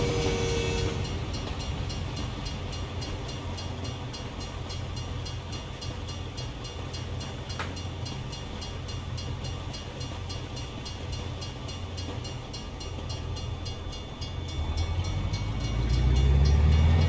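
A freight train rolls past in American Truck Simulator, a steady rumble of railroad cars with faint rhythmic clacking throughout, swelling louder and deeper toward the end.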